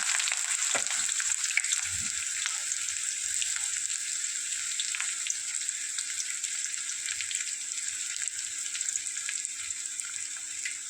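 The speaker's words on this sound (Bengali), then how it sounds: "এরপর পেঁয়াজটা লাল লাল করে ভেজে নিতে হবে" Chopped onions fry in oil with whole cardamom, cinnamon and a bay leaf, giving a steady, dense hiss that carries on throughout, with a few faint low knocks early on and no voices.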